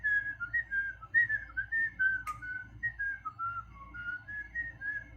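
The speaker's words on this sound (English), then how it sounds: "Does anyone else like to whistle?" A person whistles a wavering, melodic tune up close, with short phrases and small breaks, alone over a faint low hum.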